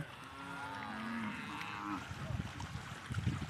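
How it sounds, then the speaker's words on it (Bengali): A herd of cattle on a riverside char near the India–Bangladesh border, with several long, low moos overlapping at moderate distance, then some softer shuffling and scattered knocks, without talk. "এত গরু একসাথে"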